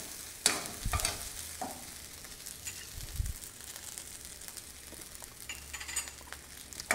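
Thai-style fried rice is stirred in a hot pan: low sizzling under bursts of spatula scraping and a few metallic clanks, heard up close with no voices.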